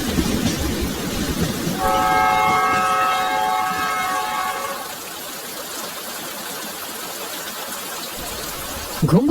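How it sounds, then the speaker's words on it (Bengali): Cartoon sound effect of a train pulling into Siliguri station, rumbling wheels under a loud sustained horn blast that fades as the train slows, ending with a brief sharp noise. "এই ট্রেন শিলিগুড়ি চলে এসেছে, তুমি এখানে নামবে না?"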